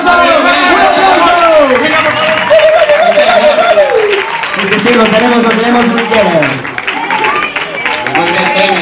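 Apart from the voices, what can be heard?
audience applause at dulzaina gathering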